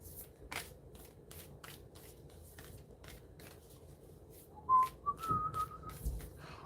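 A deck of playing cards is shuffled by hand at close range, giving several short, crisp riffling bursts in a steady run, followed by a brief whistled tune toward the end.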